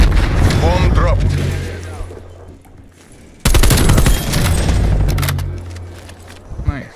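Gunfire crackles in rapid bursts during a shooter game round after the bomb is dropped, loud close volleys with a brief lull before a second heavy barrage; a voice talks over part of it.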